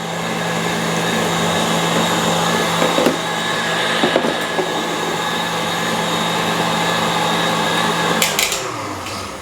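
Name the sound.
electric mixer whipping French meringue for macarons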